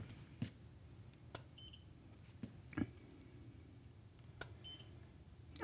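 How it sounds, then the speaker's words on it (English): A camera's self-timer gives a few short, high electronic beeps, spaced irregularly across a quiet room with faint background hiss and no talking. "Wait for the beep."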